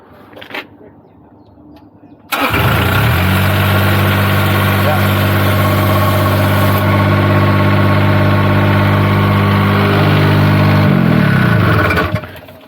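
A Niftylift HR17N access platform engine, one with a start-stop fault, fires up and settles into a loud, steady idle with a deep droning hum for about ten seconds, then shuts off; quiet clicks and low voices come before it.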